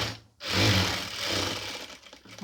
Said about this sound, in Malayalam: രണ്ടാമതൊന്നും കൂടി തയ്ക്കുക